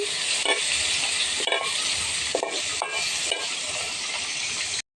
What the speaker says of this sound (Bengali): আমি এগুলোকে ছেড়ে দিই, মাছগুলো ভাজা হয়ে গেছে তো